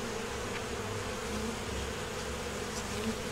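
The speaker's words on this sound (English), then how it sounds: "I'm trying to get the bees off right now to get back in the hive." Honey bees swarm and buzz at a backyard hive in South Carolina, a dense, steady drone that holds close and even throughout with no voices.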